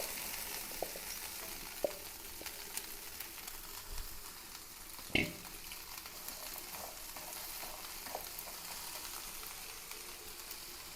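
Okra frying in a pan for a Kerala-style mezhukkupuratti, giving a steady soft sizzle throughout with a few light stirring clicks and one sharper knock midway.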